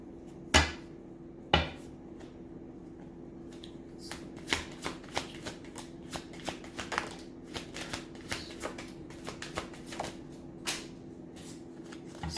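A deck of tarot cards is shuffled close up in a quiet room: two sharp riffles are followed by a run of soft, irregular slaps and taps as the cards are cut and squared, with no talking.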